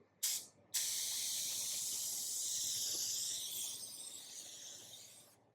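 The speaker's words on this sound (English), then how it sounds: "So you just have to do a very light spray." A short spray burst of chrome-surface coating followed by a steady, continuous aerosol hiss that runs for several seconds and slowly fades.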